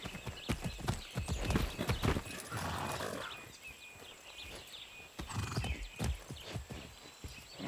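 Hoofbeats of a horse ridden in Far Cry 6, rapid rhythmic clip-clop close up with a neigh partway through, the gait slowing then picking up again.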